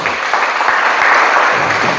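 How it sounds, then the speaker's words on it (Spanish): A congregation at a Christian sermon claps together in a brief, lively burst of applause, dense and fairly close, swelling slightly toward the end. "Dele palmas para que no se me duerma"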